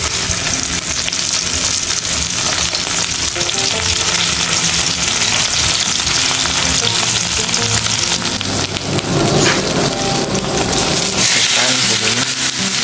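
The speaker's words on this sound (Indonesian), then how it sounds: "Goreng dulu ikan asinnya." Salted fish frying in a pan, a dense steady sizzle and crackle holding loud and continuous throughout, with no voice over it.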